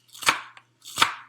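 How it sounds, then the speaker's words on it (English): Two crisp knife chops through chickpea salad ingredients on a cutting board, each a sharp, close, crunchy strike followed by a faint tap, over a low steady hum. "We're going to go ahead and chop it up. Chop, chop, chop, chop."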